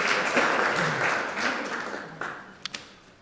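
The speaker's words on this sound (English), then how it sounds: "Yes, applaud yourselves." Lecture audience at a talk on First World War music applauding themselves, a modest round of clapping that is full at first, then thins and fades out, with a couple of final isolated claps.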